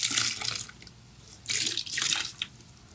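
Water splashes and pours off the top of a clay reclaim mop bucket in two short bursts, close and fairly loud, with a quiet gap between them and a few drips at the end.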